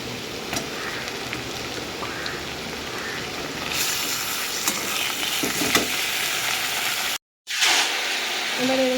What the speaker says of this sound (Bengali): পেঁয়াজটা হালকা ভাজা হয়ে গেছে এবারে আমি এর মধ্যে মাংসটা দিয়ে দেবো